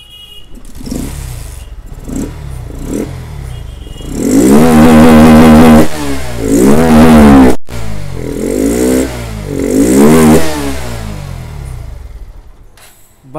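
A Bajaj Pulsar NS160 BS6 motorcycle with starting trouble and a pickup misfire, its engine running then revved hard several times in surging bursts, loud and close, with no talk.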